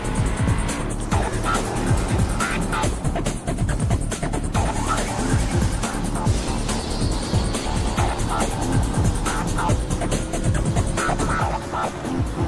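Race cars roar continuously around a track in a racing series, engines loud and close with tires squealing and cars sweeping past throughout.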